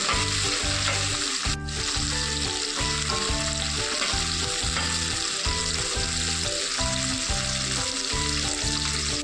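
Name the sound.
onions frying in pan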